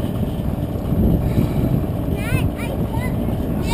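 Wind buffets a microphone outdoors around a Yuneec Q500 Typhoon drone, a steady low rumbling roar with gusty swells throughout, with no talk over it.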